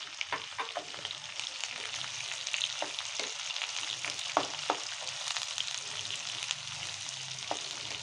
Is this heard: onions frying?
yes